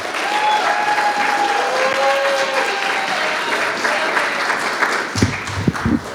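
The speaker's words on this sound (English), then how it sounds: "give a round of applause for our mayor" Steady applause from a crowd at a youth-led Dr. Martin Luther King Jr. celebration, honoring the town's mayor; sustained clapping fills the space for about five seconds before a few louder, closer claps and a low voice come in at the end.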